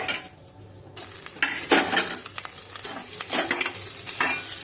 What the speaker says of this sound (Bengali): এবারে কড়ার মধ্যে অল্প ঘি দিব, দিয়ে আমি ছানাটা ভেজে নেব।